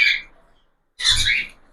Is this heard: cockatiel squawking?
yes